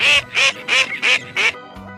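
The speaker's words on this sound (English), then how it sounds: "Well done, duck." A duck quacks five times in a steady, evenly spaced series, each call loud, nasal and close, with brief pauses between them and nothing else audible.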